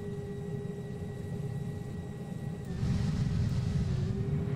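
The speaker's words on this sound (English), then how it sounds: "And now we're going to start taking off." An airplane engine roars steadily during takeoff in a Roblox flight game, a constant droning rumble with a sustained whining tone that swells slightly louder partway through.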